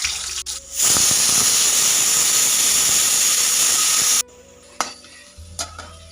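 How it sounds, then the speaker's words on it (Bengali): Potatoes and carrots frying with cumin seeds in a wok, a loud steady sizzle that swells in and holds for several seconds, then cuts off abruptly into quiet kitchen clatter with a few sharp knocks. "তারপর কড়াইয়ে জিরা সম্বার দিয়ে আলু গাজরগুলোকে ভেজে নেব।"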